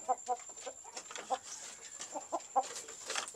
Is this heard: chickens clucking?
yes